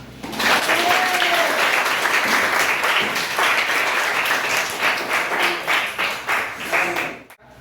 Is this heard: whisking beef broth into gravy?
no